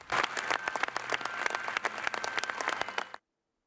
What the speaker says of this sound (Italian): Un lungo applauso lo saluta all'uscita dalla Basilica di Santa Giustina.